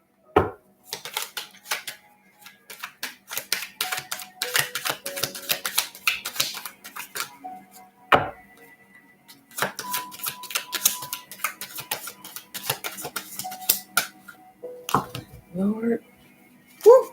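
A deck of cards is handled and shuffled at a table, with quick riffling clicks and rapid snaps in dense bursts, broken by short pauses and one sharp knock, while a voice speaks over it.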